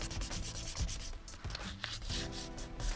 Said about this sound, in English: Start sanding the steering wheel, and it'll start, becoming white.